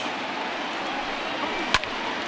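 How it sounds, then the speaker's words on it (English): Bat fouling off a pitch in MLB The Show 20 baseball video game, Diamondbacks vs Astros: one sharp crack rises briefly over a steady stadium crowd roar, with a softer knock just after. "And he fouls this one off."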